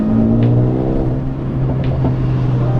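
A tuned Mercedes-AMG A35 engine with a Stage 1 tune revs and accelerates with a steady, loud droning hum, close by and continuous, with no voices.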